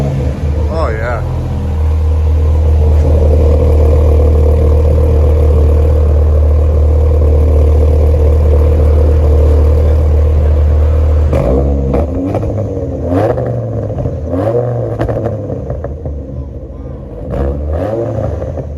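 A 2004 Dodge Ram SRT-10 pickup with long-tube headers and dual 14-inch MagnaFlow exhaust holds a loud, deep, steady rumble close by, then snaps through several sharp throttle blips. Voices talk during the revving.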